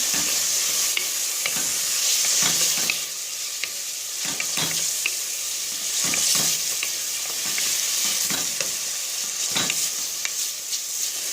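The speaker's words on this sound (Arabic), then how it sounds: "نخلي اللحم يتقلى هكذا" Meat and sliced potato rounds frying together in a pan, giving a continuous close sizzle with repeated scraping stir strokes at uneven intervals, no voices.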